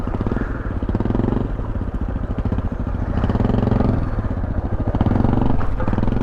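A 2019 Beta Alp 4.0 motorcycle chugs along off-road, its engine thumping steadily at low revs with some clatter as it rolls over rough ground, fairly close and continuous throughout.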